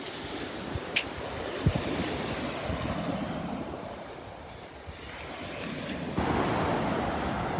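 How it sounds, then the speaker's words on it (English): Wind blows across the beach at Delnor-Wiggins with surf in the background, a broad rushing roar. Microphone buffeting rises and falls in gusts, with a few soft thumps and a stronger gust near the end. "It's nice walking with the wind."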